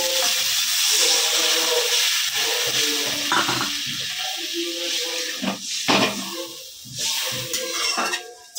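Water goes into a pan of sautéed spiced potatoes for an aloo fulkopi katla fish curry, a loud hissing sizzle at first that gradually settles, broken by scrapes and clinks of a spatula against the pan.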